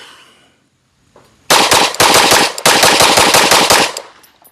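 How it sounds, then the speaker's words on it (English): Rapid gunfire from a Sig P365 X Macro pistol with an Icarus Precision aluminum frame, a loud close string of quick shots fired in fast succession with one brief pause midway. "All right, mag dump."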